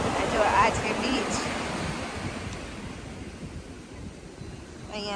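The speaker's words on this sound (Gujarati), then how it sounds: "જો આ છે બીચ." Ocean surf on a beach in Canada, a broad wash of breaking waves with wind noise buffeting the microphone, loudest at the start and easing off slightly as it continues.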